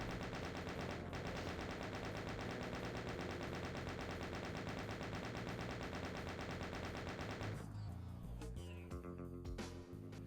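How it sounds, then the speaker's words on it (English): A chain gun fires in the PC game Doom II in a dense, rapid stream of shots lasting about seven seconds, then gives way to other game sounds at the end. "Oh, I need to use my chain gun."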